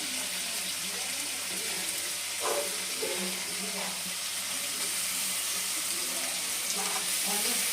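A ground spice paste frying with prawns in a pan, a soft continuous sizzle heard close with a few light clinks and stirring scrapes over it.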